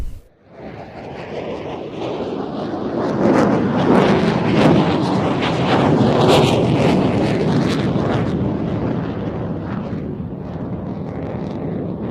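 An F-16 fighter jet pulls a hard 360-degree turn, its engine a loud, sustained roar that swells within the first few seconds and then holds steady without a break.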